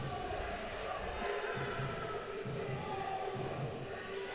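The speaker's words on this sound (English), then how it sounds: "Crowd with another Wolfpack chant, attempting to get the home team going here" Home crowd at an NC State Icepack ice hockey game against Penn State, chanting steadily in a broad, rumbling arena wash with rhythmic swells of voices throughout.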